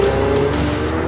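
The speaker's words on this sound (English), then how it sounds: "This not only unlocks more power and reduces weight, but it also leads to a better exhaust noise." Ferrari 488 Pista turbocharged engine with an Inconel exhaust manifold, a steady loud exhaust drone holding one even note throughout, close and continuous with no talk.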